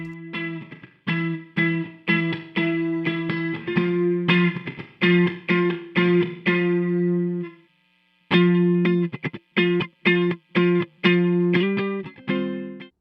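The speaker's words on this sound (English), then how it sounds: "By using a really fast delay and an extended feedback, we created this kind of reverb-like sound" An Eventide Pitchfactor pedal, set with a very fast delay, extended feedback and detuning, turns a run of plucked notes into a lush, reverb-like wash. Each note rings on with shimmering tails, and the playing pauses briefly midway.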